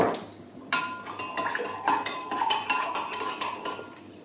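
Spoon stirring a dissolved yeast mixture in a bowl makes repeated close clinks and scrapes against the sides in an uneven rhythm, clear and alone with no talking.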